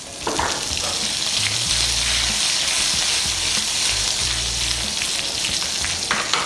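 Urad dal fries in hot oil for a chutney tempering, giving a loud, continuous close sizzle with crackling spatters and occasional stirring scrapes throughout.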